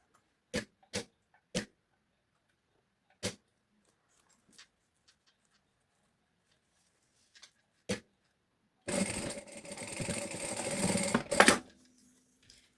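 Sewing machine stitching a short seam along the top of a handmade bag, a run of dense, steady mechanical whirring lasting a few seconds after several sharp isolated clicks and taps, close and fairly loud.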